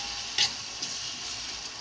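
Chicken curry with turmeric fries in a pan with a continuous, moderate sizzle, broken by a brief scrape as a spoon stirs it.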